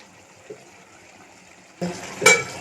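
Bata fish being stirred in a cooking pot during curry making: near-silence, then a sudden burst of wet scraping and a sharp utensil clatter against the pot near the end.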